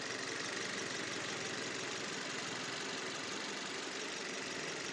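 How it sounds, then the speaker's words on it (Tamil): A Swift Dzire's engine idles steadily, a smooth continuous hum heard faintly and evenly with no talk. "இன்ஜின் சவுண்ட் உங்களால் ஃபீல் பண்ண முடியும்"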